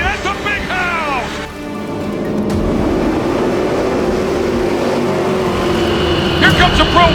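Pro Lights off-road race trucks roar past on a dirt track at race start, engines rising into a loud sustained drone, with a voice talking briefly at the beginning and end.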